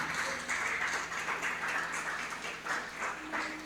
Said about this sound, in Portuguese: Você pode dar um glória a Deus e aplaudir a Ele bem forte